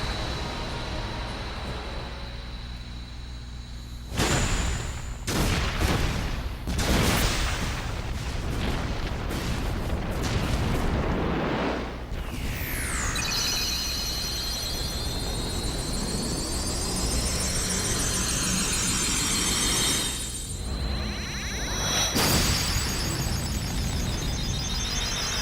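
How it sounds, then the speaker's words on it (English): Explosions and gunfire in the Kingdom Hearts Final Mix video game finale, with loud booming blasts and bursts of fire, roaring jet-like sweeps and a rising whine, dense and continuous without talk. "Whoever made this game really likes explosions."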